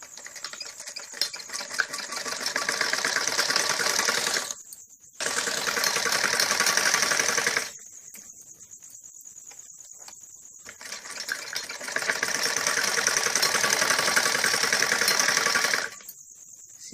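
Sewing machine stitching a kurti, close, loud runs of rapid mechanical stitching separated by short quiet pauses, several bursts in all.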